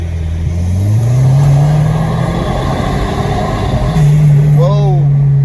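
Audi A4/A5 car accelerating hard from inside the cabin, engine tone climbing steadily through a gear, dipping briefly at a shift near the four-second mark then rising again, loud and continuous; a brief voice-like chirp appears near the end.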